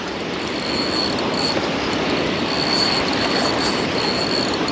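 A Daiwa Certate spinning reel's drag whirs in a continuous, loud, buzzing hiss with a faint high whine, unbroken throughout, while fishing a river spillway.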